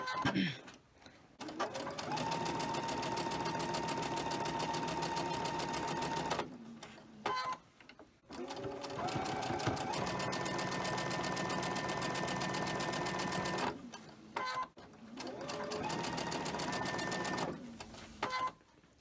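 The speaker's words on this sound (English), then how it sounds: "I'll just go ahead and chain stitch these" A home sewing machine chain stitches quilt pieces in pink thread for a mystery quilt block, running in three long, steady motor bursts separated by short pauses, loud and close.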